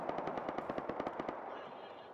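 Automatic gunfire in the Rust video game, a rapid string of about a dozen evenly spaced shots at moderate distance, ending in a fading tail with no talk.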